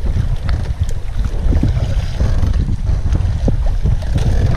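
Strong wind buffets the microphone in a continuous low roar, with gusts swelling and easing over open sea off Calatagan, Philippines, on a fishing trip.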